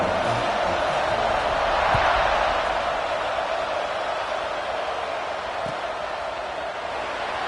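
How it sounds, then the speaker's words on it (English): Football stadium crowd at a Michigan vs Penn State game, a broad, steady buzz of distant voices filling the air, swelling slightly early and then holding level. "this crowd is buzzing after that last score"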